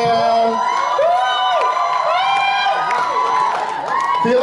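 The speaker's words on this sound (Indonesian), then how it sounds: "tepuk tangan dong untuk Fonti" Audience at a premiere event for the Indonesian family horror drama film Temurun cheers and whoops for Fonti, a lively crowd roar with scattered shouts filling the space continuously.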